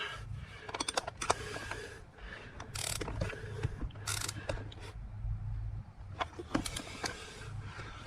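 Ratcheting and clicking mechanism sounds from tightening the rider backrest adjustment on a 2018 Honda Gold Wing, a series of close, uneven clicks and creaks in irregular bursts with no talk.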